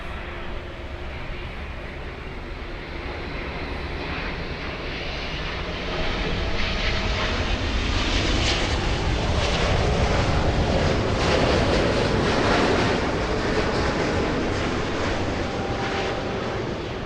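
An Austrian Airlines Boeing 777 arrives at LAX after the long flight from Vienna. Its steady broadband jet roar grows louder around the midpoint and holds, with no voices.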